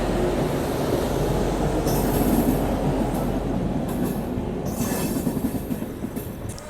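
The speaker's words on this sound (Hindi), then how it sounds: "और यहाँ पर कोरोमंडल एक्सप्रेस को पीछे छोड़ते हुए हावड़ा चेन्नई कोरोमंडल एक्सप्रेस।" Amrit Bharat Express train overtaking the Howrah–Chennai Coromandel Express, a loud continuous rumble of rolling wheels and rail noise with faint clicks and squeals, heard close from inside the moving train.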